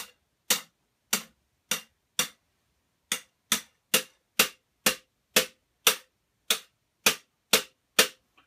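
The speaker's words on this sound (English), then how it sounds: "then you beat this rod down into it" A rod is hammered down into a rifle barrel to slug it, producing sharp metallic blows in an uneven series of about fifteen strikes with short pauses, each crack loud and close and decaying quickly.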